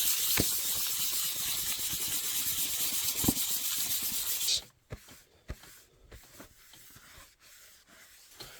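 800 grit sandpaper rubbed over primer on a model build, a close steady hissing scrub for several seconds that stops abruptly, followed by quiet scattered handling taps.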